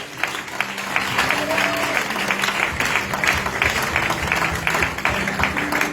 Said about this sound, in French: applaud for the Lord?